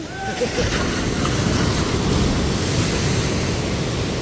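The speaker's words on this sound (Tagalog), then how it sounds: "Laki ng alon" Large ocean waves surge and crash near the shore, a loud continuous roar of churning surf mixed with wind buffeting the microphone, with a brief voice early on.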